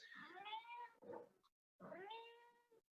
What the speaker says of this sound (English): I can hear a cat in the background.